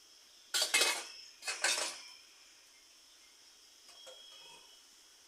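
Two quick metallic clanks close by, like a lid set onto a pot of simmering fish curry, followed by a faint clink and quiet.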